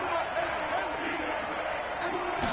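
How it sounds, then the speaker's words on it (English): Steady roar of a stadium crowd in an indoor dome during an American football video game, a dense, continuous wash of cheering with no distinct breaks. "The crowd here in the Dome making things difficult"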